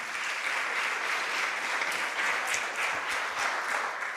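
Church congregation applauding during a Portuguese-language sermon, a dense, steady wash of many hands clapping at even loudness for several seconds with no voices over it.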